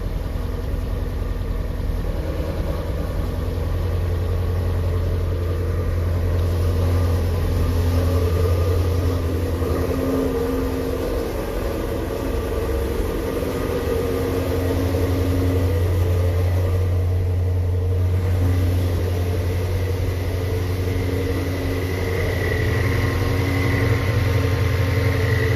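A Shelby GT350 fitted with a Whipple supercharger idles steadily after starting, a low continuous rumble with a faint whine, held for about twenty-five seconds without talk.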